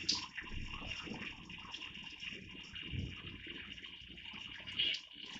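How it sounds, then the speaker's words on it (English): Water runs steadily from a tap over a piece being wetted down for drip silver mirroring, a continuous close hiss and splash with no talking. "I'm going to wet my piece down really well."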